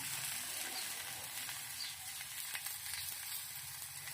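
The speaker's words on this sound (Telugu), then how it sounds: "గ్యాస్ను లో ఫ్లేమ్లో ఉంచుకొని భక్ష్యాలను కాల్చుకోవాలి." Sweet bakshalu flatbreads cook in a pan over a low gas flame, giving a soft, steady sizzle with faint crackles, close by and even throughout, with no voices.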